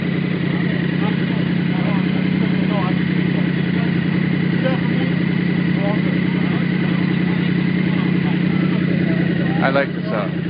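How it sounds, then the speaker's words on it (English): A motorcycle engine runs steadily through a street march, a continuous mid-pitched idle drone holding alongside crowd noise, with a brief rattling burst near the end. "I'm requesting that the motorcycle sounds be turned up."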